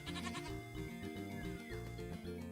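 A Minecraft goat bleats in a steady wavering cry, held and pulsing across the whole moment, fairly faint and alone with no talk.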